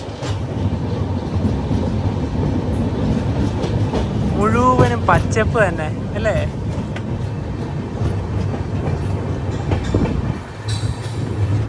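Vivek Express passenger train rolling on rails, a steady loud rumble with rhythmic clatter and brief wheel squeals, heard from inside a 3AC coach while passengers talk over it.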